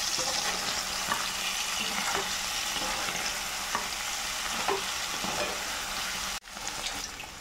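Paneer cubes fry to a brown crust in a pan with a steady, close sizzle. Occasional stirring scrapes run through it, with a short break near the end.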